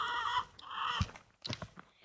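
A mother hen raising chicks clucks in short bursts, with a few sharp, brief calls near the end, close and fairly quiet, with gaps of near silence between.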